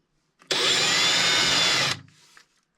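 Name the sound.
power drill pre-drilling a hole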